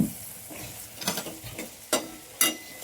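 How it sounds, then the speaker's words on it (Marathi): Eggplant pieces frying in masala gravy in a pan and being stirred, a soft steady sizzle broken by several sharp scraping strokes of the spoon, with no talking. "आता या ग्रेव्हीत टाकून घेऊ वांगे आणि मस्त मिनिटभर याला परतून घेऊ"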